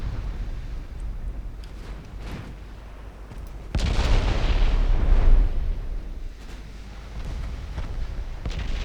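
Warship's 4.2-inch secondary guns firing at destroyers in Ultimate Admiral Dreadnoughts, a run of scattered sharp reports with one heavier, longer blast mid-way over a steady low rumble of battle.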